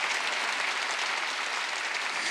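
A church congregation claps steadily during a worship service, a dense, even wash of applause from many hands with no pauses.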